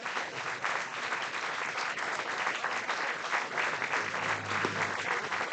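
Crowd at a baseball game applauding steadily, a continuous, even roar of many hands clapping at moderate distance with no break.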